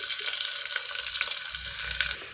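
Onion frying in hot oil with fenugreek for a millet kitchadi, a steady close sizzle with faint stirring crackles throughout, no voices.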